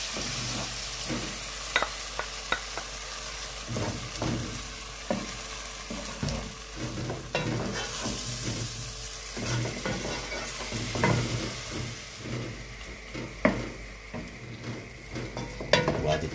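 Sauce poured into minced meat and vegetables frying for Chinese-style pasta: a loud, continuous sizzle with frequent scraping and knocking of a spoon against the pan as everything is stirred, close up, without talk.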